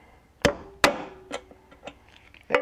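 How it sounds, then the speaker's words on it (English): A hammer drives a nail into a cardboard oatmeal tube: a few sharp, separate knocks with short ringing tails, spaced irregularly, the loudest near the start and a final strike at the end. "I'm going to get this hammer and I'm going to blow your eardrums out."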